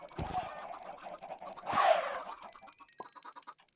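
Chickens in Minecraft cluck several times in short, close bursts over a busy game background, with one louder squawk in the middle.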